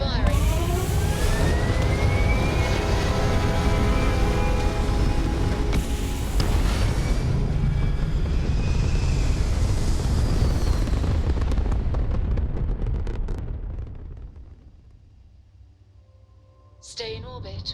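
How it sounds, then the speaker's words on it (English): Spaceship thrusters fire in the Starfield video game, a loud sustained roaring rumble with crackling bursts that fades out near the end before a brief return. "All thrusters firing."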